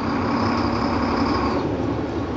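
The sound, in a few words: tractor trailer truck engine laboring against parking brake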